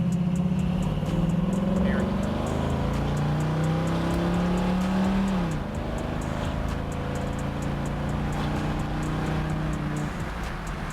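A 1966 Ford Mustang accelerates, its engine note rising in pitch through a gear, dropping at a shift, then pulling steadily again, heard from inside the car with a constant road roar beneath.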